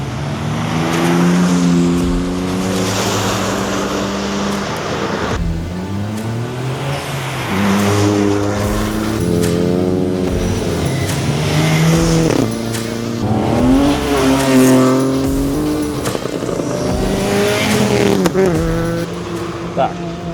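BMW M3 and M2 cars and a Toyota Yaris lap a race track at Tor Kielce, Poland, with the Yaris drifting sideways. Loud, continuous engines rise and fall in pitch while a voice talks over them throughout.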